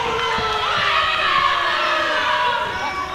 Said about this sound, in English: Crowd sounds a little divided for this match.